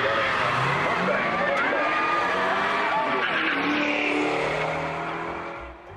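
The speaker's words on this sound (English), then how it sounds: "John's little white Datsun, with a Mighty Zilla power converter under the bonnet, is about to show a petrol car a thing or two" An electric white Datsun with a Mighty Zilla power converter drag races a Mustang, with loud tire squeal and rising race-car whine sweeping past up close, then fading at the end.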